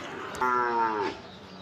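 At a village cattle market, a cow gives a short moo, somewhat distant and moderate in level, over a steady background hum of the market.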